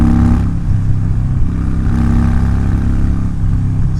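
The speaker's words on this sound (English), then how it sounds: "These pipes are deafening." A motorcycle with unbaffled exhaust pipes roars loudly and continuously up close, a deep, raw, deafening engine drone with slight rises in revs.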